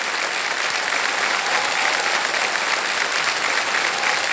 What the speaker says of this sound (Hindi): और जोरदार तालियां बज जाए इनके